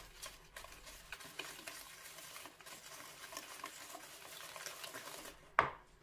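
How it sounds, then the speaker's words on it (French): Eggs being stirred into a cocoa mixture for a Christmas log cake, soft faint whisking and scraping with small patters, ending in one sharp clink of the utensil against the bowl. "Je mets ensuite les œufs, ndir men ba3d lbid, et je remue"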